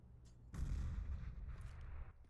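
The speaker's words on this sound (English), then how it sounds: "You scared him off. Throwing a grenade." A grenade thrown in a CS:GO match on the Mirage map, a sudden dull thump and burst of low rumble that carries on as a dense, steady blast-like roar for nearly two seconds, fairly loud.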